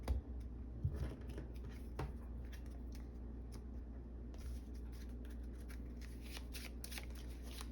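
A deck for the Marvel Champions card game is riffle-shuffled close by, with brisk soft papery flutters and taps at a quiet level over faint background hum and no talking.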